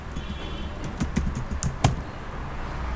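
Code being typed on a computer keyboard, quick irregular key clicks in short bursts over a low room hum, close and moderately quiet with no voices.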